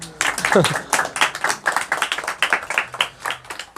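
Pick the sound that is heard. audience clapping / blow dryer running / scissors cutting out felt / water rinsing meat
audience clapping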